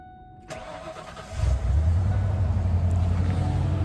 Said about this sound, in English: My truck needs a little bit of a louder exhaust.